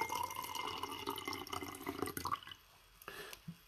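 Tea poured from a pot, a steady close liquid stream running for about two seconds, then tapering into a few faint drips.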